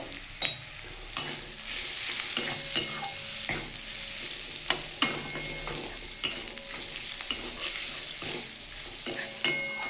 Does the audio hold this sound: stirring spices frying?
yes